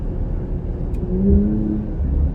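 A 2020 Ford Explorer ST with a Thermal R&D 3-inch exhaust and downpipes accelerating, a steady close engine rumble and whir that swells briefly midway, heard from inside without talk.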